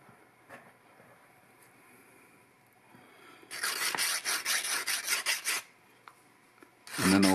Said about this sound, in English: I'm just gonna take the tiniest bit of burr that's left on there from the cut